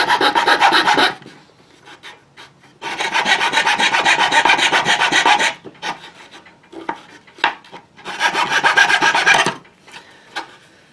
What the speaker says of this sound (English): File will work on this pretty quickly once we get this